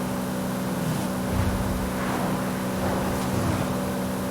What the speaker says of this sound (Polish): To jest czwarty bieg. idzie ta czwóreczka, pięknie.